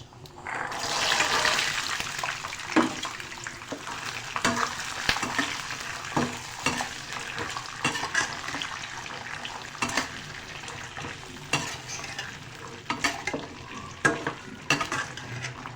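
Peas fried with whole garam masala in moderately hot oil, a strong crackling sizzle that starts loud and settles into a steady hiss, broken by repeated ticks and scrapes of stirring in the pan.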